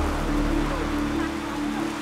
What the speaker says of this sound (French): Des trombes d'eau s'abattent sur Port-au-Prince.